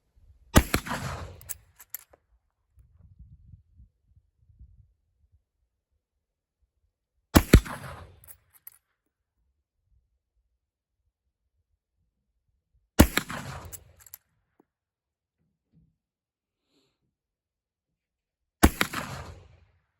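Four loud, sharp gunshots from a .44-40 firearm loaded with 35 grains behind 240-grain bullets, spaced several seconds apart at a shooting range, each with a brief ringing decay and light handling noise between.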